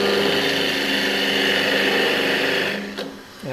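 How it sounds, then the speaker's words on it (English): Black walnut spins on a wood lathe at high RPM, a steady high-pitched whine with a smooth hum that holds evenly, then dips briefly near the end as a faint knock sounds. "this piece we're using is going to be black walnut, and because the spindle turning is pretty even, you can turn it at high RPM"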